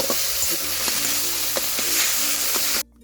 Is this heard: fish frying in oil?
yes